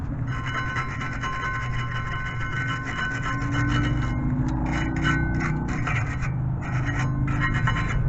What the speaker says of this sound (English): I'm using a wire brush to kind of clean that part.